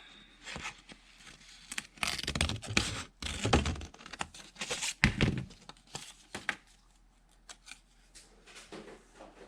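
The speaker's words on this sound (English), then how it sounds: "All right, I'm going to cut out this one now." Scissors cut out a paper folk-art flower shape, a series of close crisp snips and rustles of the paper coming in uneven bursts, with no one talking.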